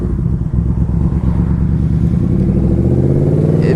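A Yamaha Royal Star touring motorcycle engine runs steadily up close, a loud, deep, continuous rumble with a slight rise in pitch toward the end and no talking.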